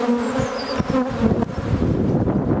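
Honey bees buzzing over a hive frame of capped honey and brood, a dense close hum with individual wingbeats rising and falling for a few seconds.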